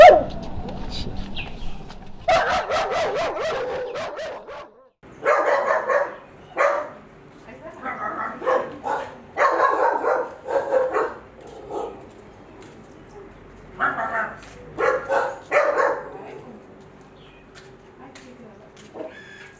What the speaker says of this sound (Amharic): ኃይለኛ ውሾች ነው ያሏችሁ።